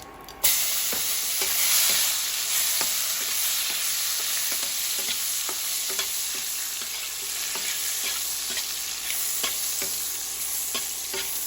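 Soaked dried mango pieces (amsi) frying in a pan over a lowered flame: a continuous loud sizzle with faint intermittent stirring ticks, close and steady, with nobody speaking.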